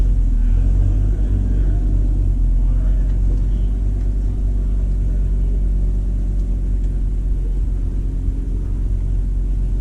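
Audi RS3 Stage 2 and Porsche 911 Turbo S lined up for a drag race, a loud, steady low engine rumble with little change in pitch, heard from close by.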